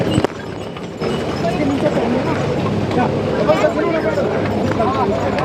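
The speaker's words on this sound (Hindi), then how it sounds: "मुझे घोड़े से ले जा रहे हैं।" Horse hooves clopping steadily along the steep Kedarnath mountain pilgrimage trail, a rider being carried up, with a busy background of crowd babble and talk around them.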